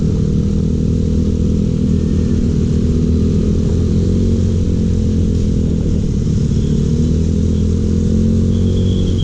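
A motorcycle fitted with a DB killer in its exhaust rides along with a steady, muffled engine drone, constant and fairly loud with no talking.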